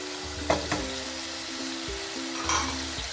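Minced chicken with ginger garlic paste sizzles in a pan with a few sharp utensil scrapes, over a steady low hum.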